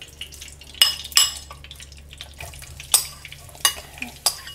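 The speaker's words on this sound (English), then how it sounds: "Now we're going to add our sliced onions from earlier." Sliced onions sizzling in melted pork lard in a pan on medium-high heat, a low steady fry broken by sharp crackling bursts and clatter as they are stirred, close and fairly loud.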